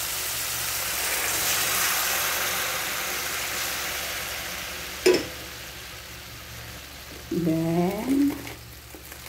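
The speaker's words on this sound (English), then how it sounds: "We are cooking shumai transforming into a sabaw." Shumai cooking in a pan as it is turned into a sabaw soup: a steady, close sizzle runs throughout, broken by a sharp clatter midway and a brief spoken voice near the end.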